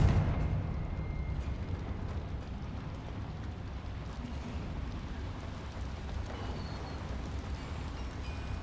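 Confringo blasting spell in Hogwarts Legacy: a heavy burst of fiery explosion at the start that trails into a sustained rumbling roar of crackling debris, loud and continuous for several seconds.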